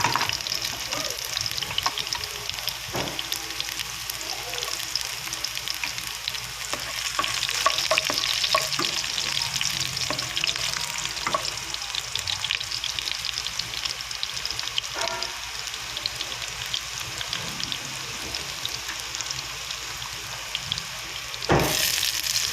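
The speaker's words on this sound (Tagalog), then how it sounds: "Una natin ilalagay yung bawang." Garlic fries in a pan for squid adobo, a steady broadband sizzle with crackling that holds for over twenty seconds, with occasional clinks of stirring and no talk.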